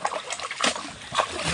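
Freshly dug mud clams are washed by hand in water, giving close, irregular splashes, sloshes and trickling with a few louder bursts.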